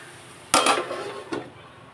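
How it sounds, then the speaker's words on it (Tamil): A plate set over a cooking pan of tendli (ivy gourd) stir-fry on the stove, giving a sharp clattering clink and then a smaller knock, close and alone. "இப்போது இதை தட்டை போட்டு மூடி வச்சுட்டு சிம்மில் வச்சு விட்றேன்"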